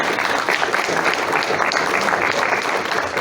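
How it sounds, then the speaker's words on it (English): Dense, steady applause from a conference audience in Union Township thanking two doctors at a health event, loud and sustained throughout with no break. "Please give them another round of applause."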